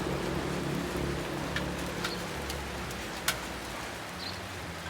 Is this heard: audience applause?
no